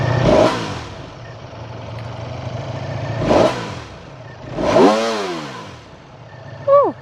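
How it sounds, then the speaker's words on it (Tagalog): A Ducati Panigale V4S with a V4 engine and stock exhaust revs sharply three times, each blip rising and falling around a steady idle, with a short final bark at the end. "So, stock exhaust, V4 engine, ganito po ang tunog niya."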